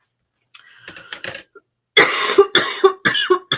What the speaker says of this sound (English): the muggy humidity is not friendly for my cough that seems to linger